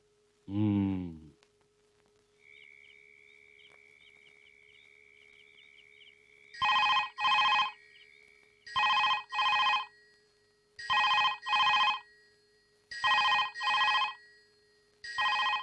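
A telephone rings indoors in a house in five clear repeated double bursts, loud and alone, after a brief voice at the start and a faint steady tone underneath.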